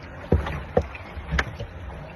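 Oar strokes from a rowboat on the Atlantic Ocean land as three soft, evenly spaced splashing thumps, close by against a quiet watery background.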